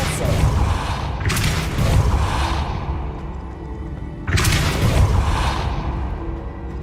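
Depulso spell cast in Hogwarts Legacy: two heavy booming blasts a few seconds apart, each a loud burst with a whooshing rush that rumbles and fades.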